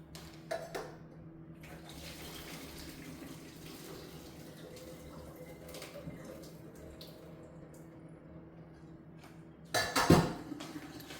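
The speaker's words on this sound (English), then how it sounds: "Now I'm just gonna strain this and put it right in." Kitchen clatter of pots and running water as cooked pasta for a creamy Tuscan sausage dish is strained in a sink, ending in a brief loud clatter and splash as it is tipped into the pan.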